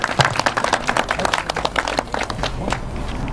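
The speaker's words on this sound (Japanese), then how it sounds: "大きな拍手お願いします" Applause at an award ceremony for a fishing tournament, a steady patter of many hands clapping throughout, fairly close and loud.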